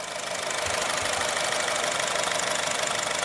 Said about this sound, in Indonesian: mesin kondisinya sehat, kita bisa dengar dari suara mesin normal